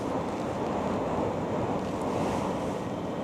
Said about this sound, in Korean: 와, 진짜 바람 소리 장난 아니에요.